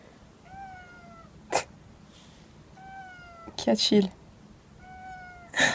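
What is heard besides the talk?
cat meowing as it arrives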